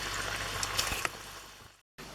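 Jaffna-style chippi murukku dough frying in hot oil, a steady sizzling hiss with soft bubbling crackles, close and fairly quiet, broken by a brief moment of silence near the end.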